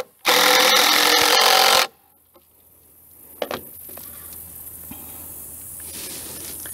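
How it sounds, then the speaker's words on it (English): A power driver sinks a torque screw into timber on a covered bridge under construction, in one loud, steady whirring burst of about a second and a half, followed by quiet with faint knocks and handling. "I'll run this torque screw in just kind of hold it still."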